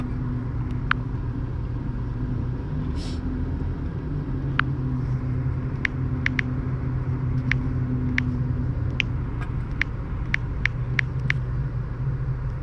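Steady low engine rumble from a car crawling through jammed traffic, with a continuous road hum and scattered brief clicks; no one speaks.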